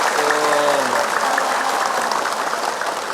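An audience applauds for Ustaz Zaki Mirza at a religious lecture, with dense, steady clapping from a crowd, loud and continuous, while faint voices are audible at the start.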